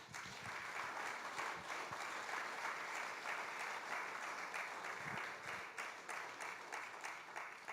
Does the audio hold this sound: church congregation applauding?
yes